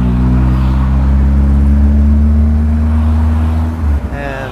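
A 1984 Hyundai Pony 2 engine droning loud and steady as the car pulls through its short gears, a strong low hum that holds then drops off near the end with a brief shift.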